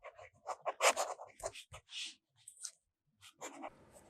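A stub nib fountain pen writes on paper in short, scratchy strokes, close and quiet, with small pauses between bursts.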